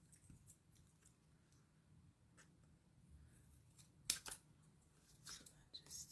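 Scissors with adhesive-coated blades snipping during a craft session, giving a few close, sharp tacky cuts around the middle and end over quiet background hum.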